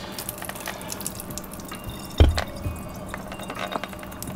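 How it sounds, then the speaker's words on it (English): Boiling water pours and drips from an instant yakisoba cup draining through its lid holes, a soft running trickle with a sharp splash or clunk midway, close and fairly quiet. "Get all that boiling hot water out of there."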